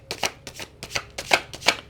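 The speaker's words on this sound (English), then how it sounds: "let's pull some cards on both of these" Tarot cards being shuffled by hand, a steady run of crisp riffling slaps repeating every fraction of a second, close and moderately loud with no voices.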